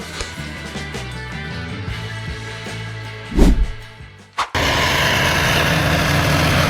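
Tractor engine from a T7.225 Blue Power rated at 225 horsepower, pulling a Horsch Terrano 4FX disc cultivator in a field after harvest, holding a steady loud drone with a brief surge and a sharp knock before settling into a broader roar.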